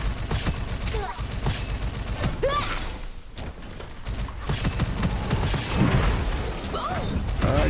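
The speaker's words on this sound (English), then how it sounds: "the Exploding Lanterns are getting cleaned up by Acidic Explosion" Exploding lanterns and an acidic explosion effect in a game's combat: dense crackling blasts, clanks and rumbling impacts pile up continuously in a busy, loud mix with scattered sharp bursts.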